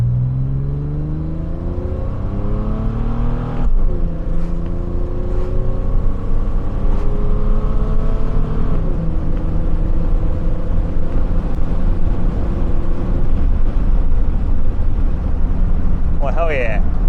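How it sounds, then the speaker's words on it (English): A car accelerates hard on the road, its engine note climbing steadily in pitch, dropping sharply at gear changes, then rising again, a loud and close sound throughout the run. "so I might be good for another little acceleration run"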